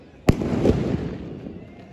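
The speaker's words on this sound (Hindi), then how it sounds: "आज 120 शॉट्स फोडतोय." A single Diwali sky shot firework bursts with a sharp, loud bang, followed by a second weaker pop and a rumbling, crackling tail that fades over about a second and a half.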